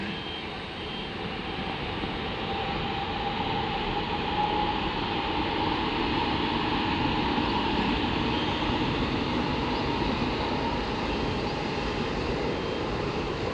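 Steady, broad rumble of a passing MRT train near a station, continuous and fairly close, holding level for the whole stretch with no voices.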